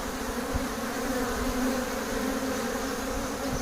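Honeybees and drones buzz at a beehive entrance in an apiary, a dense continuous droning hum heard close up and steady throughout.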